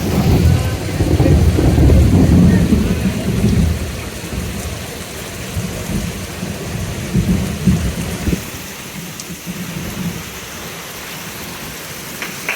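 Heavy rain pours down in a village, a loud dense roar of rain on surfaces that is strongest at the start and then settles into a steady patter, with rumbling thunder in the background.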